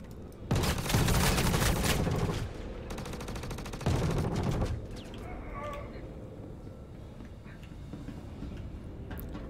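Rapid gunfire bursts in the Star Citizen video game, loud, dense volleys in the first half, with quieter scattered shots and game effects after.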